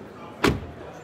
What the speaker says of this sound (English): Now closing sound with the door, excuse me, with the window down.